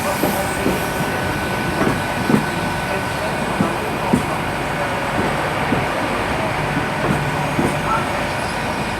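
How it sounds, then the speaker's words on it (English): A passenger train pulling into Bristol Temple Meads from London Paddington, a steady rumbling roar with rhythmic wheel clatter over rail joints and a faint high squeal, continuous and fairly close under a station hum. "This is the 1827 arrival from London Paddington."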